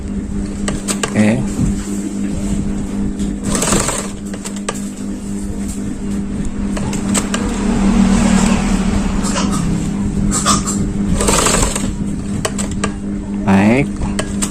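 A sewing machine stitches fabric in quick whirring bursts that start and stop, with mechanical clicks between runs and a person talking throughout.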